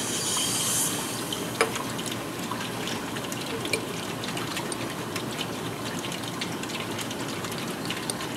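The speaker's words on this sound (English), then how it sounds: "any crystals I have left over in this container, I'm going to hit with cold deionized water" Cold deionized water rinses leftover acetanilide crystals in a lab container, making a steady, even rush of flowing water with a few faint clinks.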